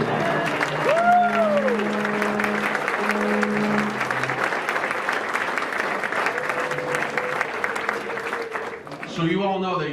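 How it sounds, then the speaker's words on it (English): An audience at an Air Force leadership school graduation claps steadily for several seconds, a dense patter of hands while a voice speaks over the start and the applause fades toward the end. "give them a round of applause."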